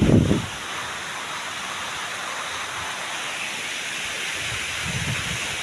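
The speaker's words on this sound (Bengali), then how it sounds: "বৃষ্টি আইতেছে, প্রচুর বৃষ্টি" Heavy rain pouring down outdoors, a constant broadband hiss with a brief thump of handling at the start and faint low rustles near the end.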